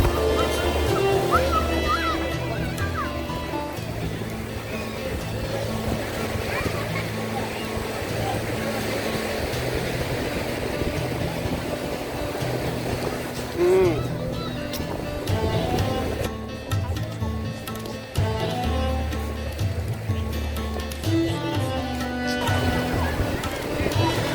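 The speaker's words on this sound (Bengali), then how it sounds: "বড় বড় ঢেউগুলো খুব এনজয় করছি" Big ocean waves roll and wash in continuously at Marina Beach in Chennai, a broad steady surf roar with crowd noise and voices mixed in throughout.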